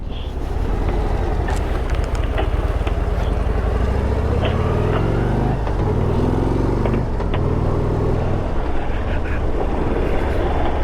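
A 2022 Harley-Davidson Street Glide ST 117 motorcycle with stock quiet exhaust rumbling while ridden, a steady low engine drone with rising and falling revs under heavy wind buffeting.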